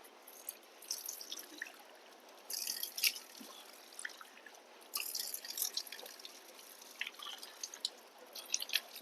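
Water drips and trickles in small irregular splashes during wudu ablution, with soft close droplets falling steadily over quiet background and brief louder bursts of splashing.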